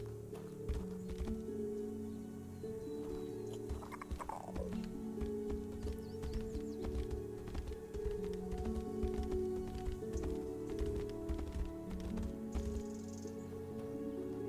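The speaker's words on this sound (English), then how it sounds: "Riding a horse is very unwieldy, especially considering how I can run faster than one." A ridden horse trots in an indie Elder Scrolls-style video game, its steady clip-clop of hooves quiet against a soft background hum.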